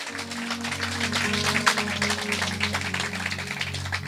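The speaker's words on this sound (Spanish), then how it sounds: "aplausos" A church congregation in Pilar, Argentina claps together in a steady, moderately loud patter of applause, with a low sustained musical tone running underneath.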